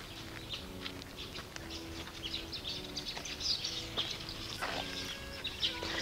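Weaver birds chirp and call along the Black River, with scattered bright, overlapping twitters and tweets over steady low outdoor ambience, moderately near and never masked by talk.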